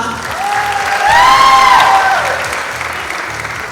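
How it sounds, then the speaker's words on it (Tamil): A seated audience at a stage event applauds steadily, a dense even wash of clapping that swells in the middle while a held tone sounds faintly over it. "பாரபட்சம் இல்லாம கைத்தட்டலாமா"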